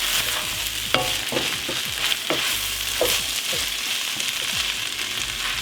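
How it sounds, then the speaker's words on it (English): Chicken, sausage and rice fry in a pan, a steady close sizzle punctuated by repeated scraping strokes of a utensil being stirred through the mixture. "now I'm gonna mix this around and let that rice soak up some of the flavor"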